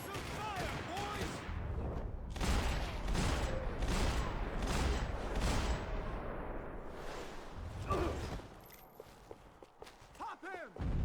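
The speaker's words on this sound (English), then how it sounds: "Lay down some fire, boys!" Bursts of gunfire in the video game Max Payne 3, a string of sharp repeated shots and thuds in quick succession, with game voices heard among them.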